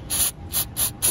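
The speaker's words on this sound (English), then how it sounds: "we're just gonna be spraying up around the contacts" Four short, sharp hissing bursts of aerosol cleaner are sprayed around the throttle body contacts of a Chrysler Pacifica's 3.6L Pentastar engine. The bursts are close and evenly spaced, with no talking.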